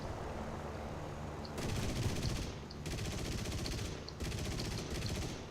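Gunfire in the War Thunder combat game, a Russian tank angling its shot, with three sustained bursts of rapid crackling fire separated by short pauses, close and loud over a steady low battle rumble.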